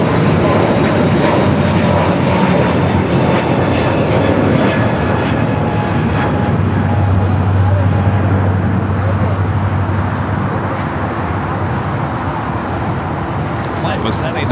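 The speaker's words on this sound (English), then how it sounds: "we do have a JetBlue departure here on the south side" A JetBlue airliner departs from the south side at LAX, a loud, continuous broadband jet engine roar filling the whole span, with people talking over it.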